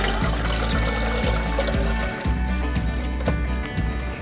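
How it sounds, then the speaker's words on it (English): Cold water pours steadily into a container for a lemonade recipe, a continuous splashing, gurgling flow heard up close that shifts slightly in pitch as the vessel fills. "Now into that we're going to add 4 cups of cold water."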